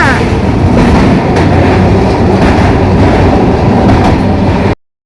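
A Duronto Express train rumbles steadily along the rails, a loud, continuous roar with rhythmic clatter from the wheels, heard from inside a carriage until it cuts off abruptly near the end.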